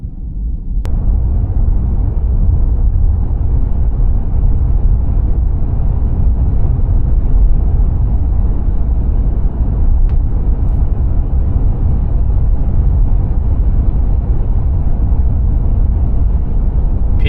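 Steady, loud low road and tire rumble inside a 2024 Tesla Model 3 Performance cabin as it accelerates toward highway speed, a continuous broadband drone with no voices and a couple of faint clicks.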